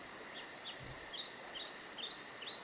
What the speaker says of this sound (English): Maybe you can hear some birds singing in the trees.